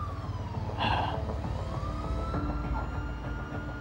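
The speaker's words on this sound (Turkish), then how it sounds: "Ambulans geliyor." An ambulance siren wails in rising and falling sweeps, moderately close and steady throughout, with traffic rumble beneath.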